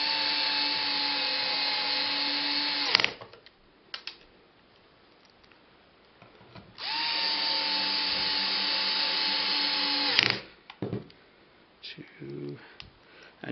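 A power drill whines in two long, steady bursts as screws go back into a Ryobi P102 battery pack, each run ending abruptly with clicks and handling noises between, recorded up close.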